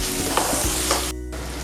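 Mushroom masala with fenugreek and garam masala frying in a pan, a steady close sizzle with occasional stirring scrapes, briefly cut to near silence before resuming.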